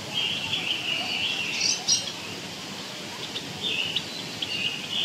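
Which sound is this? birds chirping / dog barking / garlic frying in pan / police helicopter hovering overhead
birds chirping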